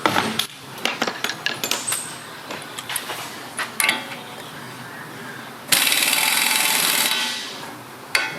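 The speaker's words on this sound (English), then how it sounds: "Next I'm going to remove the two lower strut mounting bolts." Mechanical work on a 2005 Honda CR-V front strut to remove the lower 24mm mounting bolts, with metallic clicks and clanks of tools, then a sustained loud burst of an impact or air tool near the end.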